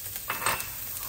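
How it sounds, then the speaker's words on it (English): Ginger hits a hot wok for beef and broccoli, a brief burst of sizzling with a light scrape or clink, soft and close, fading quickly into quiet. "Into the wok, we're going to add ginger,"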